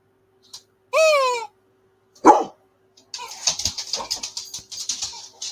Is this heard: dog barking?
yes